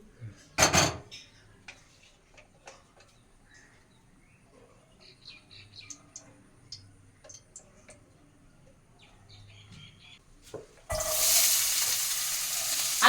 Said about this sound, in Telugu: ముందైతే కూర తాలింపు పెడతాను